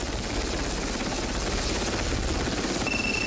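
A destroyer's shipborne helicopter thumps steadily and loudly throughout, a dense continuous whir with no talking.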